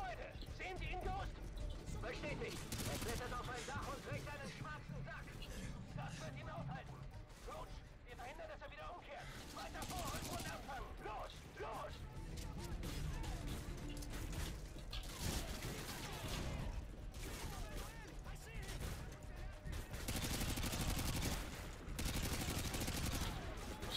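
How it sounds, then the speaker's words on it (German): Heavy militia gunfire in Modern Warfare 2: dense, continuous bursts of automatic fire and explosions with game music underneath, and a voice speaking over the din. "Wir sind unter starkem Beschuss von der Miliz."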